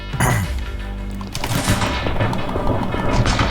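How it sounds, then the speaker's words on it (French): A gas tank blows up during a crouch-and-shoot video game, a loud, booming blast with crackling debris and rapid gunfire-like bursts that continue densely right through the short stretch. "C'est une belle explosion ronde, ça."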